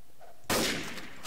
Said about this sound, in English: Why did you randomly shoot me?